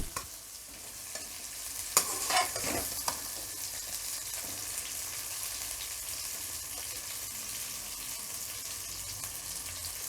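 Fresh okra (bhindi) fries in a pan for bhindi masala, a continuous hissing sizzle with a few clattering stir strokes early on, steady and close, no talking.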